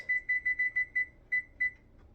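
A kitchen timer beeps in short bursts: a quick run of six evenly spaced beeps, then two more after a pause, clear and close.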